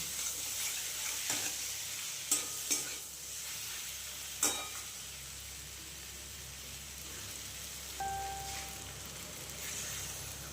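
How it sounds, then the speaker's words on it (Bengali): Spices and onion stirred and fried in a pan with five-spice tempering, a low steady sizzle with a few sharp scrapes and clinks of the spoon against the pan, fairly quiet. "আমার মশলাগুলোও কিন্তু খুব ভালো করে কষানো হয়ে গেছে"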